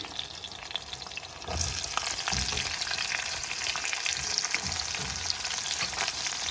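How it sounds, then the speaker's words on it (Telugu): Onions and green chilies fry in a pan for an okra tamarind gravy, a steady broadband sizzle that grows louder about a third of the way in as the onions go in, with occasional stirring scrapes and no talking. "పచ్చిమిర్చి ఇలా వేగాలండి ఉల్లిగడ్డ వేస్తున్నా"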